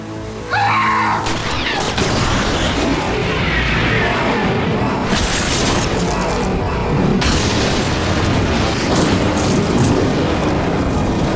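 A heavy explosion booms close by and gives way to a long, loud roar of rumbling and crashing debris that keeps going to the end.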